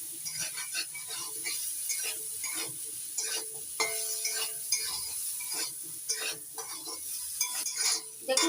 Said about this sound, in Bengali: কাঁঠালের বীজ আর আলু নাড়াচাড়া করে একটু ভেজে নিয়েছি।